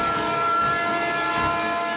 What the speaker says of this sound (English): He thinks he can outrun a fast-moving freight train.